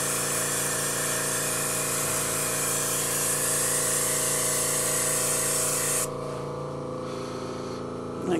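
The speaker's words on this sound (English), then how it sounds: "that noise you hear in the background is my air compressor" An air compressor powering an airbrush runs with a loud, steady hiss and motor drone close by, the high airy spray cutting off abruptly near the end while the motor hum carries on alone.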